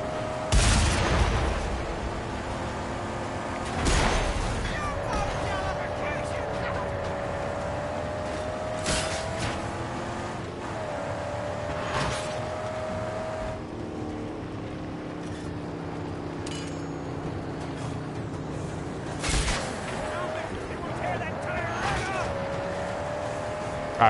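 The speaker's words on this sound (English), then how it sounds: "The good old-fashioned shotgun always works." Shotgun blasts in the video game Mad Max, several loud booming shots spaced seconds apart over engine rumble and game noise, with someone talking in between.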